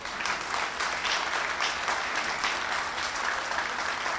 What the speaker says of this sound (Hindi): जितने भी लोग यहाँ पे है, हमारी अंतरिक्ष की संस्था इसरो के लिए सारे लोग जोरदार तालियां बजाएं।